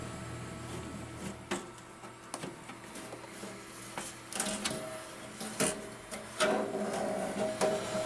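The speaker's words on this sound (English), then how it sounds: "Let's go ahead and pull the cover off here and see what the internals look like." Metal cover being pulled off an old desktop computer case that had sat under a table, giving a run of scraping, rattling clicks and sliding bumps of sheet metal, close and fairly loud, with no talk.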